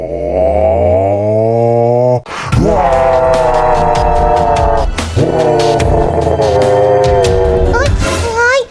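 A loud, drawn-out growling roar in Minecraft starts abruptly, breaks off briefly, then resumes and sustains at high volume.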